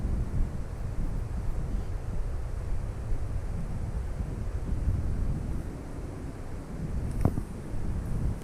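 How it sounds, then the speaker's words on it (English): Wind gusts over a microphone beside an outdoor fishing lake, a continuous low buffeting rumble with a faint wash of water and a brief knock near the end. "The wind took that."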